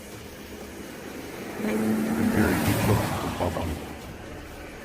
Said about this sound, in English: The sound of an approaching engine turns out to be nothing more than oncoming traffic